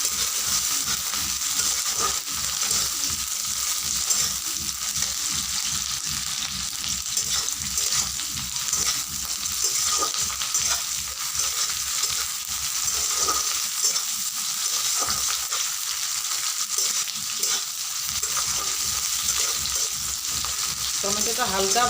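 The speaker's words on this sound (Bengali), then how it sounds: "টমেটোগুলোকে একটু না ভেজে নিলে টমেটো থেকে একটি কাঁচা গন্ধ ছাড়ে, সেই কারণে একটু ভেজে নিচ্ছি ভালো করে" Chunks of tomato fry in hot oil in a pan for an egg curry, giving a steady loud sizzle with rhythmic stirring scrapes throughout and no talking.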